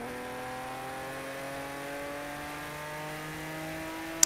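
A steady Porsche engine tone in the racing game Project Cars 2 rises smoothly in pitch as the car accelerates, with a faint whine layered above it and a tiny click at the end.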